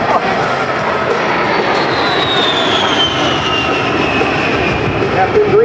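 An A-10 jet aircraft turning through a low, tight display pass at the 2010 Singapore Air Show, a loud, steady engine roar with a slowly sliding whine, constant throughout and heavily dominant.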